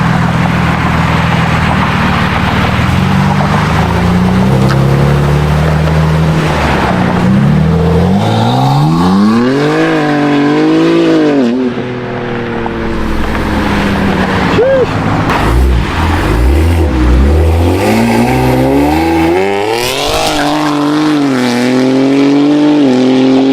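A tuned 700 WHP BMW M3 CS G80 engine roars loud and close, revving repeatedly and surging through rising acceleration sweeps, with voices under the engine noise.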